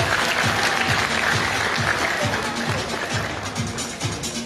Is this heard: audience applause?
yes